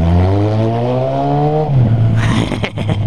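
A motorcycle engine revs hard under acceleration, its loud, close whine climbing steadily in pitch, dropping briefly at a gear change, then pulling again with a rougher roar.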